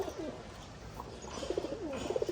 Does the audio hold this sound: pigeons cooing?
yes